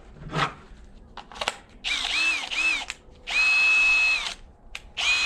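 A Popoman 1/2-inch cordless drill whirs in several short bursts in high range, struggling to bore a 1-inch hole, starting and stopping with rising pitch, close by, with clicks and handling noises between runs.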